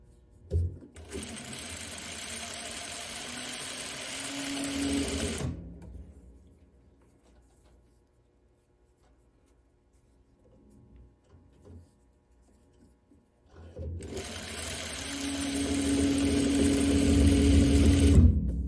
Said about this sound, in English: You can see I'm just stitching along the edge.